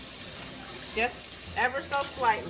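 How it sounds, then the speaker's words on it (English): Cold tap water runs steadily over burro tortillas as they are rinsed at a kitchen sink, with a person talking over the flow. "So let's get these burros washed. Cold water, of course."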